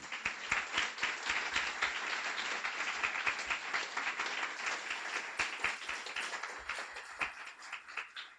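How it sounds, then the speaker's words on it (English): An audience at a guide dog school graduation gives a warm round of applause, many hands clapping in a dense, steady patter that thins out toward the end. "So a warm round of applause for them."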